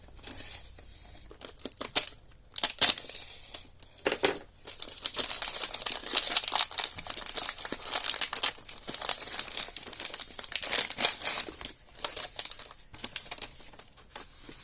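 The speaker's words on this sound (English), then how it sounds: "I'll go ahead and cut it since I got my little blade out here" A small blade cuts open the plastic wrapping of a Spanish military breakfast ration, giving a long run of crinkling, tearing plastic with sharp snips and rustles, close and fairly loud.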